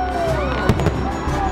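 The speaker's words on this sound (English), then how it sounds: "witness the magnificent fireworks finale" A fireworks finale at a Christmas event, with whistling rockets rising and crackling bursts popping at a distance over a background of crowd murmur.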